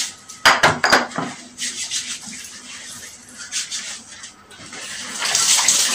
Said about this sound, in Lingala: nakoya kosukola maboko na ngai